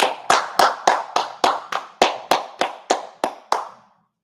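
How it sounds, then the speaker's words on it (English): Hands clapping alone in a slow, steady rhythm, about a dozen sharp, evenly spaced claps that stop abruptly, close and fairly loud. "Clap it up."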